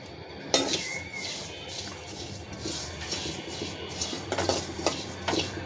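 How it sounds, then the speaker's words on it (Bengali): Black cumin seeds toasting in a hot pot on a stove while a spoon scrapes and clinks against the metal, giving repeated short metallic scrapes over a soft background hiss. "চুলায় হাঁড়ি দিয়েছি, গরম হয়েছে। কালো জিরাটা ভেজে নেব,"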